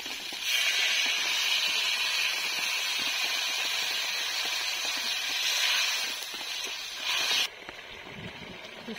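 Water poured into a hot pan of fish curry with ground cumin and chili paste produces a steady, loud hiss that sizzles continuously for several seconds before cutting off, with no talking over it.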